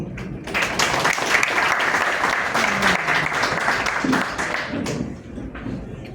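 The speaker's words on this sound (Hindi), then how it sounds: "आप अपने लिए ताली बजा दीजिए" An audience breaks into dense, sustained applause at a live recitation event, loud and even for several seconds before thinning out and fading near the end.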